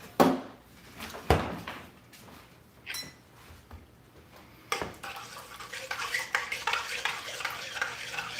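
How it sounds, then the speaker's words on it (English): A spoon stirs a mixture in a pot, with a few sharp knocks and clanks early, then a busier stretch of swirling, scraping stirring. "So, we'll give that a little stir."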